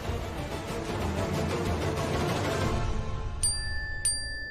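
A mobile phone notification ding sounds twice near the end, bright and clear over a noisy indoor scene in a Hindi TV drama.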